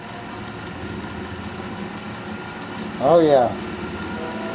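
A wood lathe motor hums steadily as its speed is raised, the low drone running underneath a brief spoken remark from a person near the middle.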